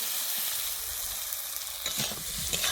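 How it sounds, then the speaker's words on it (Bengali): Fried potatoes drop into hot oil and spices in a pan for a fish roe curry, giving a loud, steady close sizzle with a brief clatter of stirring near the end. "এবারে আমি দিয়ে দিচ্ছি ভেজে রাখা আলুটা"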